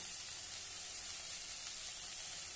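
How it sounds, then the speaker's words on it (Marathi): Spices and turmeric sautéing in a pan, heard as a steady, close, fine hissing sizzle without pauses or voices. "पाव चम्मच हळद आणि छानपैकी परतून घेऊया"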